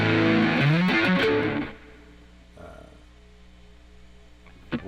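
Heavily processed guitar notes swirl with a chorus wobble, then fade into a lingering reverb tail and a quieter plucked note.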